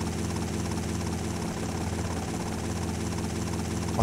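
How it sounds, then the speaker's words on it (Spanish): Steady helicopter rotor and engine drone from GTA Vice City Stories, a dense continuous hum throughout with no talk over it. "este helicóptero se mueve más rápido que el mío"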